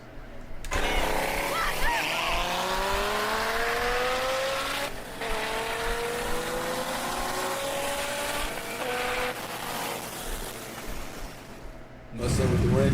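Street race cars, a Ford Mustang and a Chevrolet Corvette, accelerating hard with rising engine whine through the gears and tire noise, loud and close, with crowd voices in the background.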